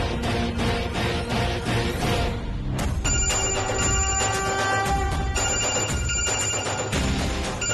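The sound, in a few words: phone ringing on a call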